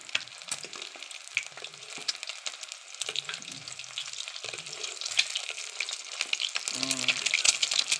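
Mackerel and eggs sizzle and crackle steadily in a hot pan, a dense bright frying hiss that grows louder toward the end, with brief utensil scrapes and no talk.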